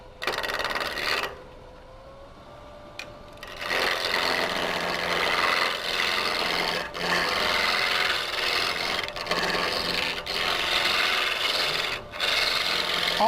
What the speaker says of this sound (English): All I'm using here is a roughing gouge.